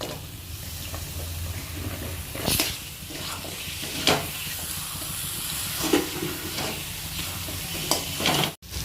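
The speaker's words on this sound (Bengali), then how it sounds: "এবার আলুটা দিয়ে মা আরো একটু কষিয়ে নিচ্ছে।" Cut potato pieces frying and being stirred in oily spice paste for jackfruit (echor) kalia, a steady close sizzle with several louder scraping stir strokes spaced a second or two apart.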